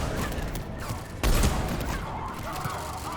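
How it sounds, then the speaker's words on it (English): Gunfire in the video game Mass Effect 3: a short, dense burst of rapid shots with a heavier thump partway through, close and fairly loud, with a voice nearby. "Stop shooting me in the face."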